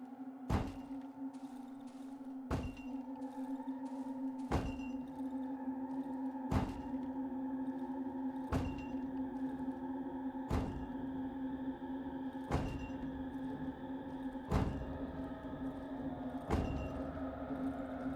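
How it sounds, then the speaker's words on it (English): In the Darkwood video game, a groom bangs his head against a table in heavy, evenly spaced thuds about every two seconds, over a low sustained hum and faint ambient music. "the groom repeatedly bangs his head against a table"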